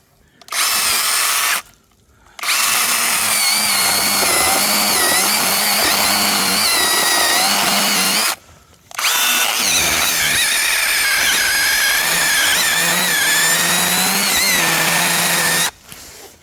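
A small power saw whines steadily and loudly while cutting through a large cherry tree, stopping briefly twice before revving back up in long runs.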